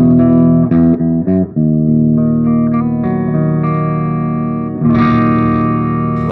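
A heavily distorted electric guitar plays a bridge riff: a few choppy chords at first, then long sustained ringing chords with effects, loud and alone.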